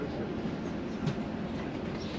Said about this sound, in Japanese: 電車に乗りました